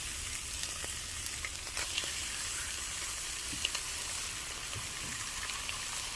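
Steady, dense sizzle of thick pork belly frying on a grill outdoors, continuous and close with faint scattered pops and no talking.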